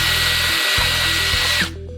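A power drill fitted with a 5.5mm bit bores through an aluminium bifold door frame section, a loud, steady high whine with a brief dip partway before the motor stops near the end.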